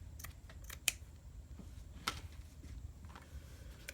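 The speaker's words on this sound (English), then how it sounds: "I'm going to cut this off a little bit extra" Scissors trim the excess binding material on a handmade garden journal, giving two or three sharp, close snips spaced apart in an otherwise quiet room with no talk.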